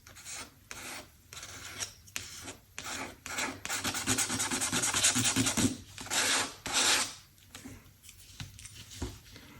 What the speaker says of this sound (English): Let's try a palette knife. Yeah, that makes some more scratches.